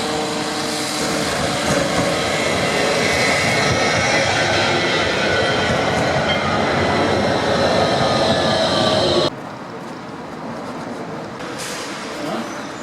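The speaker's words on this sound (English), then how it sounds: "now I get on a tram to the outskirts of town" A tram in Nantes, France rolls along its rails with a loud, continuous rumble and rattle, then the noise drops abruptly near the end as it slows or passes onto a quieter stretch.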